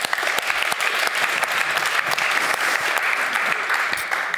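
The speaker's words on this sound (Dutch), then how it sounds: "Geef hem een warm applaus, Jeroen van Bergijk." Warm, sustained audience applause fills the room for Jeroen van Bergijk at an Amsterdam civic talk event, dense steady clapping with no voices over it.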